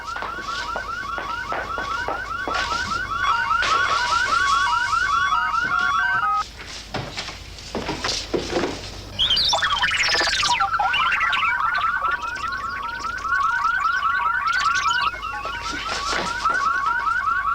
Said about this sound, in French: L'alarme s'est déclenchée dans le bureau de Stanton.